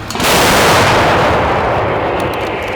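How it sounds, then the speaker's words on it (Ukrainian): A single heavy blast from a Ukrainian Bohdana self-propelled howitzer booms out loud and close, its rumbling roar lingering and slowly decaying over the next couple of seconds. "Розрахунки САУ діють швидко та рішуче. Постріл!"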